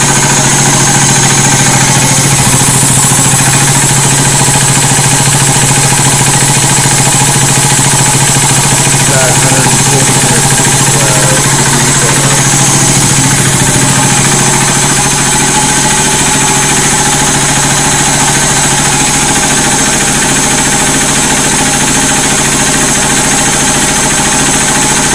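A Quincy 325 air compressor on a 50-gallon tank, driven by a 5 HP, 1740 RPM Leeson electric motor, runs steadily with a loud, continuous mechanical drone and low hum throughout.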